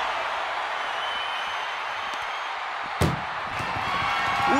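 An ambulance door slams shut during an ambulance wrestling match: a single loud, sharp bang stands out against steady arena crowd noise, followed by lingering crowd sound.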